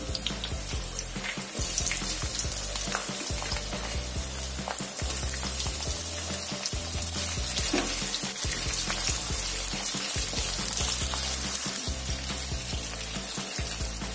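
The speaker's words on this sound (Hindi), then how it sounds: "प्याज को हल्का सॉफ्ट हो जाने तक भूनेंगे।" Onions fry on high heat in a pan for drumstick curry, a steady close sizzle with rhythmic scraping stirs throughout, no talking.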